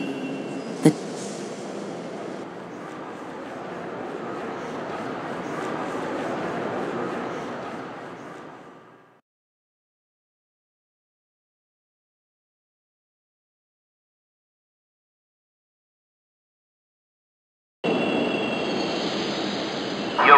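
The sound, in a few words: train arriving at a station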